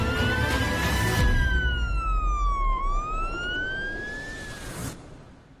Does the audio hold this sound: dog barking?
no